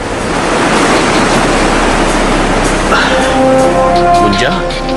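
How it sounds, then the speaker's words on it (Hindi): Waterfall in a dramatic outdoor setting, a steady loud rush of falling water filling the whole stretch, with faint tonal music entering partway through. "मुंजा, ये भले ही झरना हो पर काफी गहरा लगता है।"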